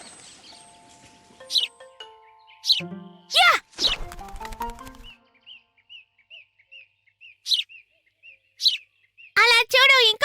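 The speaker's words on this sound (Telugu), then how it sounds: "అలా చూడు, ఇంకొక పిచ్చుక." Sparrows chirp in a cartoon scene, with bright sharp tweets and rapid repeated calls in quick bursts, mixed with other cartoon sound effects and voices.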